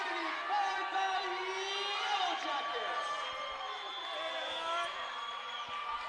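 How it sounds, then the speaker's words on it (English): A gym crowd at a women's volleyball quarterfinal chants and cheers in a sustained, loud wave of many voices, with a commentator talking over it. "Crowd is chanting."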